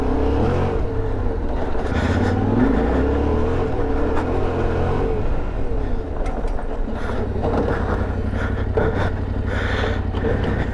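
A car braking hard on a gravel surface with ABS active, a loud, continuous low rumble of tires and engine with pulsing crunch throughout, no voices.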